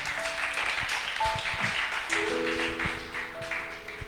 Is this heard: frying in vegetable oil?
no